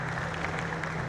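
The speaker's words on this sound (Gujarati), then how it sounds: "ફરી પાછા જોરદાર તાળીઓથી આ બંને મહાનુભાવોને હૃદયના ભાવથી આવકારીએ." An audience claps together to welcome two dignitaries at an ISKCON bhoomi poojan ceremony, a continuous, fairly distant patter of applause with no break.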